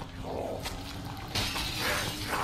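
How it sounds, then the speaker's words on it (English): Window glass shatters in Call of Duty: World at War Zombies, with a bright crash and brittle breaking that continues as a loud burst of debris partway through, over steady game background noise. "Yeah, you can shatter windows."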